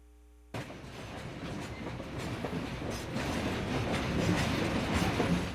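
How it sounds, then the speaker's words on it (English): Railroad cars loaded with taconite pellets roll into the ore docks in Duluth, Minnesota, with a loud, steady rumble and clatter of wheels on track that begins abruptly and builds slightly as the train passes close by. "Rolling into the ore docks in Duluth are railroad cars filled with taconite pellets from EVTAC"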